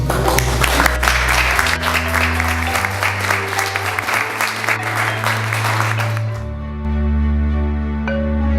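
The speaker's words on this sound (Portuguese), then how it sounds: "gostaria de uma salva de palmas para o camarada Roque" Audience applause for Roque Ferreira at an evening campaign gathering, a sustained crowd clapping over steady musical tones for about six seconds before it stops and the music carries on alone.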